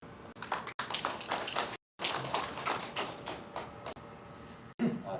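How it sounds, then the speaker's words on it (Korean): Audience applause welcomes a professor arriving to give a lecture: a continuous, fairly quiet patter of many hands for about five seconds, broken by a few brief dropouts. "우리 김주환 교수님 박수로 받으시죠"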